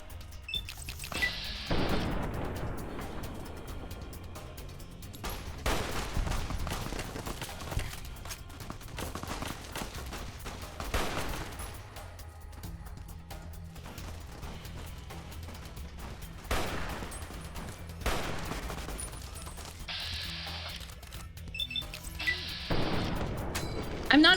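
Gunfire in Fallout: New Vegas, separate loud shots and booms spaced apart over a low ambient bed, with occasional talking between them.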